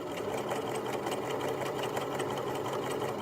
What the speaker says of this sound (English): just going to continue sewing down the seam